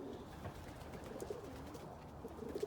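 A young opal fruit stencil cock pigeon coos softly in a few low, rolling notes, quiet and close, with no talk over it.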